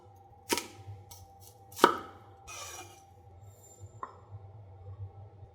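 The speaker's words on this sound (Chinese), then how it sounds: "再来点青红椒和洋葱，都切成条状。" Green and red peppers and onion being chopped into strips with a knife on a cutting board: a few sharp, separate chops near the mic, with quiet gaps between them and no talk.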